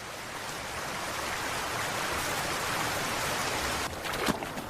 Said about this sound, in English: now the autumn rains have really picked up